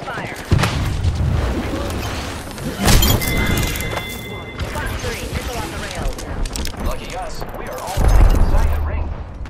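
Gunfire and impacts in the Apex Legends battle royale game, with loud bursts, booms and shattering hits scattered across a busy mix under game voice callouts.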